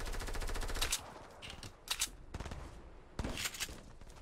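Rapid bursts of gunfire in Fortnite, several quick volleys of automatic shots separated by short pauses, fairly close and without talk.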